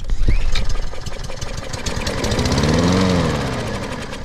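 A Kohler XT Series engine on a Poulan 21-inch lawn mower, troubled by a carburetor fault and fed carburetor cleaner, starts and runs. Its uneven, sputtering mechanical roar is close and loud, with no voices.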